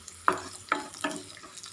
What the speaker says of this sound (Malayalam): ഇത്രയും ചേർത്തിട്ട് നന്നായിട്ടൊന്ന് ഇളക്കി കൊടുക്കാം.